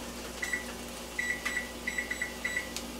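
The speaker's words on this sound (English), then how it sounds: "I'm going to set my microwave timer for 12 minutes." A kitchen microwave oven is set to a 12-minute timer: a string of short, bright keypad beeps in uneven bursts rides over a steady low electrical hum.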